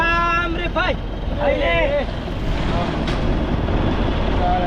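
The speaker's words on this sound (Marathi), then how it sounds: "आता आपली बोट घरी सुटलेली आहे" A fishing boat's motor runs steadily through the whole stretch as the boat heads home from deep-sea night fishing, a constant broadband drone under loud talking voices.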